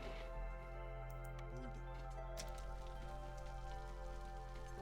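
Rain in the video game Against the Storm, a soft, faint patter of falling drops layered over a steady low game hum with scattered light ticks.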